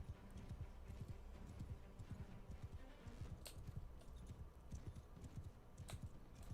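A horse gallops fast across open ground in Mount and Blade: Bannerlord, its steady pounding hoofbeats rolling close and loud, with a few sharp bright clanks and impacts on top.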